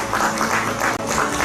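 Conference attendees at a climate and school-meals session in Gyeonggi, Korea, give a brief burst of dense, even applause that stays steady throughout.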